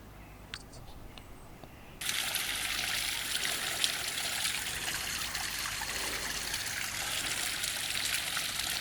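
Water pours down a waterfall in a flooded slate quarry, starting as a quieter trickle with a few small splashes, then jumping into a loud, steady close-up rush of falling water that continues without a break.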